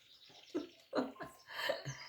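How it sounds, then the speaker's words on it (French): A small pet bird sings indoors, a few quiet, bright chirps and short warbles scattered over two seconds against a soft room background. "Et quand j'ai dit ça, j'ai mon petit oiseau qui a chanté."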